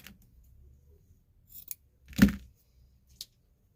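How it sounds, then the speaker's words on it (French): Scissors make a single crisp snip through material cut from a spool, with a few faint rustles and a small click around it, close and otherwise quiet. "On va couper un bout."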